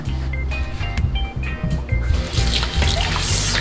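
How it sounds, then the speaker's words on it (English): Water pours into a bowl of leftover Jamaican curry chicken marinade, a trickling, splashing stream rising toward the end, with clinking and knocking sounds of the bowl throughout. "you're going to put a little bit of water"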